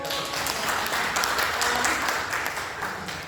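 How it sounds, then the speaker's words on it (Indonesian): An audience bursts into dense, steady applause that stays loud and even throughout, with faint voices mixed in. "Tepuk tangan dong buat Bu Uli dong"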